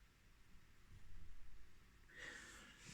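Soft, close breathing and a few quick sniffs of a swirled glass of Mikkeller beer, followed by a faint hiss near the end, all quiet with no talking.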